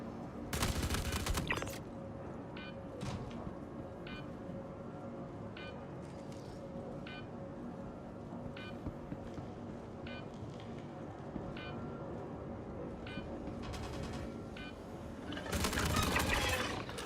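Bursts of gunfire in Star Citizen, a loud rapid volley at the start and another near the end, with sparse single shots between over a steady low ambient hum.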